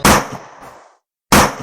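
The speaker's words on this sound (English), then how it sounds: "Gunshot from below deck." A gunshot sound effect set below deck on a ship: a sharp, loud bang with a short decaying tail, then a brief silence and a second sharp shot.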